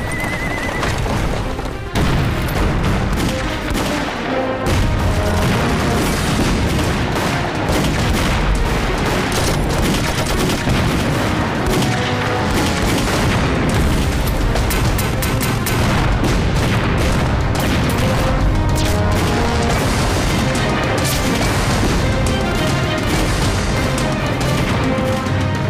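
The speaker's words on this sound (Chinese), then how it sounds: "把小鬼子弹药库全都给炸了。" Battle sounds from a war film in which a Japanese ammunition depot is blown up: dense, loud booms and rapid gunfire mix with horses whinnying and hooves clattering, continuous throughout.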